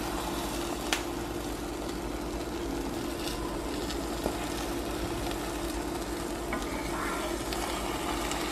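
Omelette eggs are stirred and sizzling in a frying pan at home, a steady soft frying hiss with faint scraping throughout, close by, with occasional small knocks and no clear talk.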